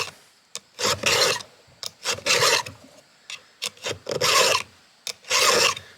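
Hand file rasping across a chainsaw chain to sharpen it with the chain still on the saw, a close, loud run of repeated strokes, each a short scraping burst separated by brief pauses.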